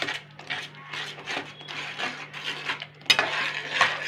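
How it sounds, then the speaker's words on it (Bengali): Spiced tomato masala with cumin, chili powder, turmeric and garam masala being stirred and sautéed in a pan: a spoon scrapes and clinks against the metal in irregular strokes, with a soft sizzle underneath. "ভালো করে ভুনে নেবো আমি।"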